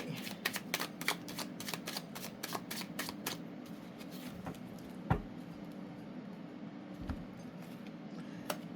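Tarot cards being shuffled during a reading, with a quick run of crisp riffling flicks up front that thin into softer, sparser card slides and taps, fairly close and quiet.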